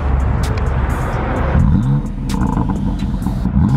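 A 2018 BMW M4 Competition revs hard while parked, its engine climbing through several sharp throttle blips with deep rumbling exhaust up close and loud.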